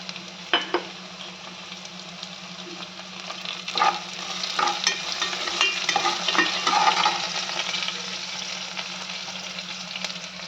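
Onion and curry leaves frying in a pot for a beaten-wheat vegetable bath, a continuous sizzle with scattered clicks of a spoon stirring against the pot, no one speaking.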